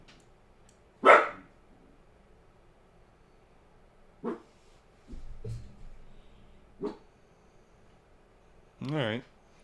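A dog barks sporadically at a distance, a few sharp isolated barks and a whine spread over several seconds, with a brief spoken word amid the quiet room.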